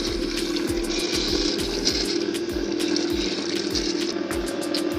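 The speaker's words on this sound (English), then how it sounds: "And I have my watermelon mixture. Just gonna pour." Watermelon sorbet mixture pours and splashes continuously into a running ice cream maker over a steady mechanical hum and rhythmic churning, close and fairly loud throughout.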